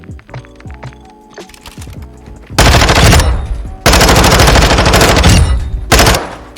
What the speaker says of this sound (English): And then I'm going to shoot them with the after zoom